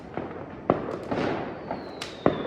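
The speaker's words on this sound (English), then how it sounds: "local people buying fireworks and shooting them off like mad" Fireworks set off by local people during Chinese New Year in China: several loud, sharp bangs spaced unevenly, with a rising whistling streak between them over a crackling background.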